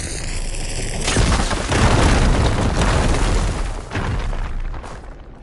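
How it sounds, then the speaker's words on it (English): A fire gleam blows up in the Horizon Forbidden West game: a single loud, close boom with a rumbling burst of debris that rolls on for several seconds, after a brief electronic tone. "Should be able to blow up that fire gleam."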